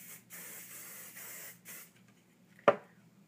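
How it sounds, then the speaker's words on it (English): A single short burst of hairspray hisses close by after a few quiet rustling sounds. "I'm going to just spray the whole front of my hair"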